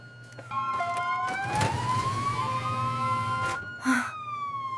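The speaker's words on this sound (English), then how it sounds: "I hear the ambulance. They're here." Ambulance siren approaching, rising and sweeping tones growing nearer and louder over a low engine rumble, with a short burst of another sound near the end.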